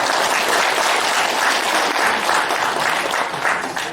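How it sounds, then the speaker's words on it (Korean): A lecture audience at a university continuing-education talk welcomes the speaker with loud, sustained applause, a thick continuous roar of clapping throughout. "너무 박수를 열심히 환영해 주셔가지고 감사드립니다"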